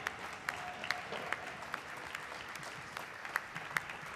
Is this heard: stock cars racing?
no